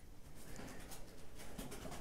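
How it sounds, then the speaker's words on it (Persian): A pigeon or dove cooing softly in the background, its calls partly buried under loud rap music. "پرنده منم از این ترانه به وجه اومده"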